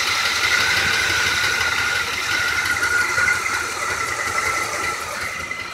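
Truck engine running steadily at close range, a continuous mid-pitched drone with a high whine on top and a slight dip in level midway, no talking.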